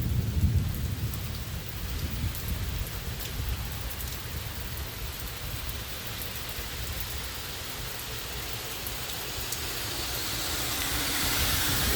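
A thunderstorm with rain in Hochelaga, Montreal, steady heavy rain hissing on surfaces with a low rumbling of thunder rolling beneath, recorded outdoors while walking, no talk.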